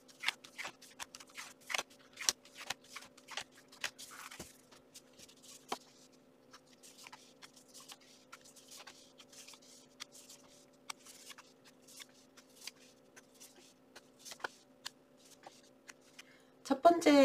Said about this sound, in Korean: 5번 벼라님들의 10월 둘째 주 카드 뽑아볼게요.